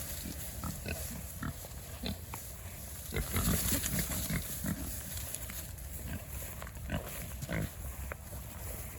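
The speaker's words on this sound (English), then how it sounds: "Back up, pig." Pigs on a swine breeding farm, a steady bed of grunting and snuffling from several animals near a pasture gate, continuous and moderately close with louder bursts midway, no talk over it.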